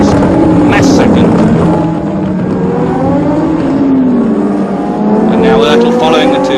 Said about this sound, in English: And now Oertel following the two McLarens